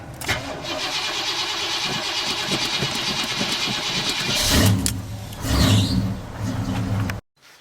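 A 1946 Ford dually truck engine cranks and fires up, settling into a rough idle with a couple of revs, close and fairly loud, then cutting off abruptly at the end.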